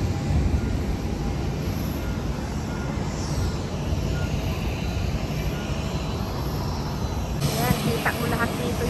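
Aircraft engine noise at Haneda Airport in Tokyo, heard from the upper observation deck, a steady broad roar that fills the whole stretch while people talk nearby.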